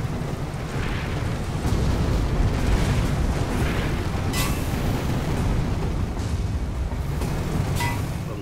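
Weapon fire in the video game Guns and Balloons booms heavily over a constant rumbling roar, with sharp bursts at irregular intervals throughout.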